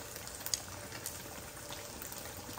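Green beans boiling in a pot of water on a home kitchen stove, a steady soft bubbling and hiss with small occasional pops, close and alone with no talk.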